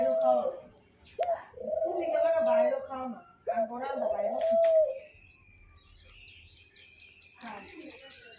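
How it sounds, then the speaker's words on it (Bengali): A dove coos, soft low calls repeating in a few drawn-out phrases, fairly close, with faint chirps and background noise between them. "দেখুন ঘুঘু পাখি কীভাবে ডাকাডাকি করে।"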